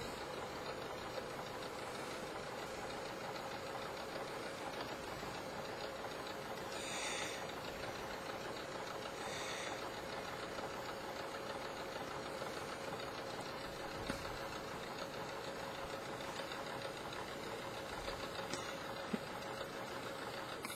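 A sewing machine stitches the side seam of a hoodie jacket at a slow pace, giving a faint, steady mechanical hum that runs unbroken throughout with no voices.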